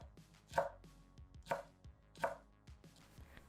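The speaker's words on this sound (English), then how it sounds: "Then I stack them up and cut into ribbons." A knife chops stacked wood ear mushrooms into ribbons on a board, three firm evenly spaced cuts with softer knocks between, close and clear with no talking.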